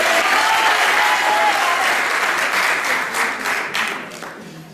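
Loud, dense applause from an audience of team fans at a medical faculty's regional SIMCUP 2017 event, sustained before gradually thinning and fading toward the end.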